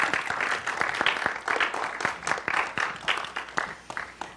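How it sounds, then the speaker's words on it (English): A school scholar bowl tournament audience gives a round of applause for the volunteers, a light, moderately distant patter of hands with distinct individual claps, fairly faint and steady. "Can we have a round of applause to all of them for giving of their time today?"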